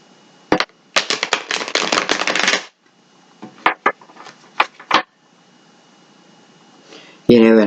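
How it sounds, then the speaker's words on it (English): A tarot card deck is shuffled by hand, giving a sharp flutter, then a long riffle of rapid clicks, followed by several short separate snaps. A voice comes in briefly right at the end. "One more shuffle."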